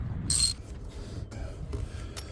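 A 19 mm socket breaks loose and unscrews an old sensor on a Silverado or Sierra pickup, giving a short loud rasping scrape followed by softer intermittent ratcheting and rubbing clicks close up.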